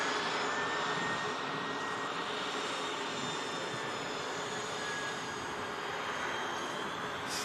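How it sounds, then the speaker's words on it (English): A Ryanair Boeing 737 Max 8 touches down at Manchester Airport in thick fog, its jet engines a steady, loud broadband roar that holds unbroken throughout with no talk. "There's the Ryanair Max touches down."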